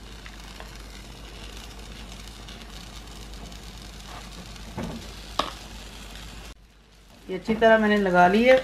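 Sweet bread frying on an oiled tawa, a low steady sizzle with a few scraping touches, then someone talks over it near the end.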